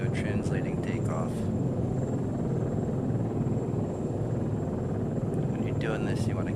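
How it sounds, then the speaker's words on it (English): Engine and rotor drone of an aircraft taxiing toward a runway for a translating takeoff in the video game Arma 3, a steady loud low rumble with a whine above it, with someone talking over it. "Taxi to the runway, and I'll do a translating takeoff."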